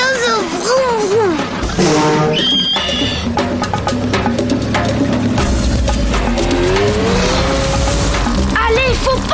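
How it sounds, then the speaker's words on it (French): A cartoonish boat engine revs and whines amid upbeat music in a Marsupilami cartoon, with animated French voices talking and a rising mechanical buzz. "Vas-y, Zoé, fais partir le bateau. Bateau de vroom vroom"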